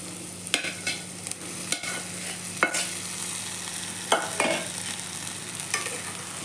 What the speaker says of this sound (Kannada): ಇವಾಗೆಲ್ಲವನ್ನು ಚೆನ್ನಾಗಿ ಮಿಕ್ಸ್ ಮಾಡ್ಕೊಳ್ಬೇಕು.